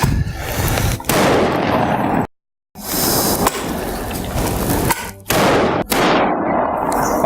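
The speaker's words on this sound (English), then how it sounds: "Okay, we'll shoot 2 shots." A rifle with recoil similar to a .30-06 fires two loud, close shots with harsh blasts and echoing tails, separated by a brief silent gap.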